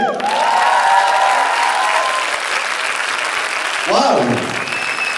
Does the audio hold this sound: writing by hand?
no